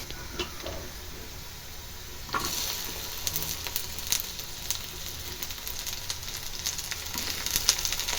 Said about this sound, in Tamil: இப்போ நாங்கள் வெண்டைக்காய் போட்டுக்கலாம்